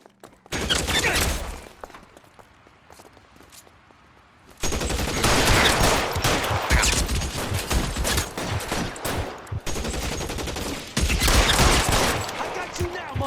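Bursts of rapid gunfire erupt in an L.A. Noire shootout, a loud sustained fusillade that drops briefly to quieter shots and then returns even denser, with shouting voices mixed into the chaos.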